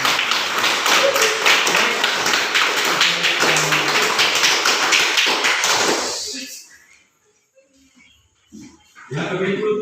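Audience applause in a school classroom during a health-promotion session on clean and healthy living: dense clapping goes on for about six seconds, then dies out into near silence, with a short burst of noise near the end.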